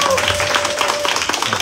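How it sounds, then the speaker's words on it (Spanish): A church congregation claps loudly for a missionary couple serving in the Dominican Republic. The dense, steady applause lasts under two seconds, with some voices mixed in. "¡Aplauso fuerte!"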